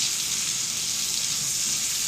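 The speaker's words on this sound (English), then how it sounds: "until I've sauteed up my onions and my mushrooms and peppers" Onions, mushrooms and peppers sauté in a hot pan with a continuous, even sizzle and crackle throughout, fairly quiet and uninterrupted, no voices.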